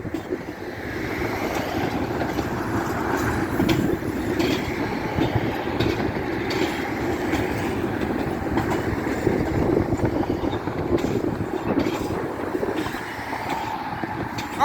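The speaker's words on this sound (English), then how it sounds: "The train's coming out of the station." A Chicago train pulls out of the station, its steady rumble and wheel clatter loud and continuous throughout, with occasional squeals and no talking.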